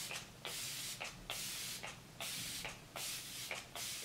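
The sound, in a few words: makeup setting spray being sprayed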